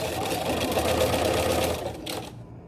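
A sewing machine runs steadily while stitching a crotch seam on a garment alteration, a close, continuous mechanical whir that slows and stops near the end.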